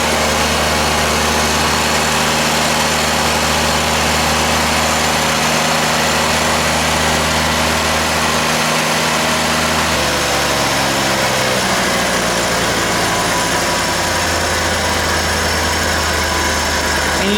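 A Ford 302 V8 idles loudly and steadily after starting, with the idle dropping and settling lower partway through; the running is close and continuous with no talk.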